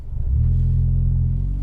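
Mitsubishi Lancer Evolution X with a rebuilt SST dual-clutch gearbox pulls away from a stop, a steady, close low engine drone building smoothly with no stutter.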